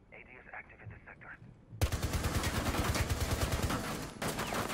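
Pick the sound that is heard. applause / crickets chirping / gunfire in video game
gunfire in video game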